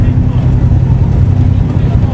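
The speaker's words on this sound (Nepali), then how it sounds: "त्यो डुङ्गा छ नि डुङ्गा त्यो चाहिँ यही हो के" A boat moves on the water at Kobe, Japan, with a steady, loud low engine drone and wind rumbling against the microphone, and no clear break in the sound.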